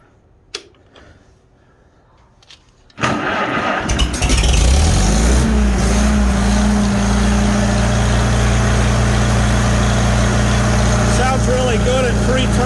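A Farmall H tractor engine cranks and catches after a quiet pause with a faint click, then settles into a loud, steady running thrum that holds at high revs for the rest of the clip.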